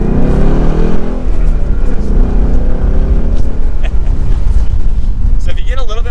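A Ford Mustang GT Premium convertible with a manual gearbox pulls hard through the low gears, its engine roar loud and steady under heavy wind rush from the open top.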